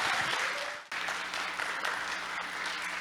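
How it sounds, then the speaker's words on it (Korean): Applause from a large company audience greeting the CEO onto the stage at an anniversary meeting, a broad continuous roar of clapping with a brief dip near the start, fairly distant. "열화와 같은 큰 박수로 송기용 사장님을 무대 위로 모셔보겠습니다"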